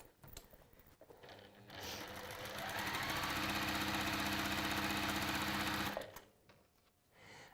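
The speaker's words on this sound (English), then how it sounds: "we're going to chain stitch down here, down that long edge" A sewing machine chain stitches down a long quilt edge, a loud, steady, close whirring run of about four seconds that starts up and then stops, with quieter handling before and after.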